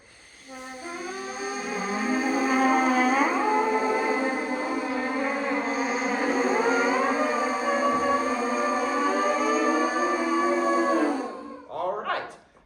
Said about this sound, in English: focusing good airstream and then barely adding that buzz in and then get a strong buzz